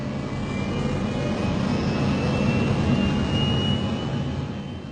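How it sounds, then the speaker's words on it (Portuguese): A fixed-wing airliner's jet engines roar steadily at full power during the takeoff run, a loud, broad, sustained rumble with a faint high whine and no voices. "O avião está na pista, acelerando, ficando muito rápido."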